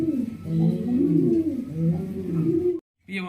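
Pigeons on a farm in Bhawal Mirzapur, Gazipur, give close, loud rolling coos in a sustained warbling run, a voice talking over them, then a short silence and a brief burst of sound.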